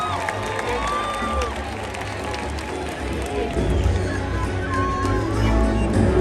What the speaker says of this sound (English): Everyone give a big round of applause for Caleb.